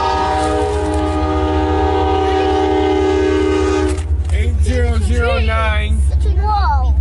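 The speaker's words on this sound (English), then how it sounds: "Whoa. Big train." A CN freight train rolls past in Port Huron, Michigan, its horn blaring loud and steady for several seconds before cutting off, then the wagons rumble on while people exclaim excitedly nearby.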